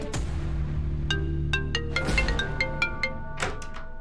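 A phone rings with bright, repeating electronic tones in a quick melodic pattern. The sound is close and fairly clear, with a low background hum underneath it.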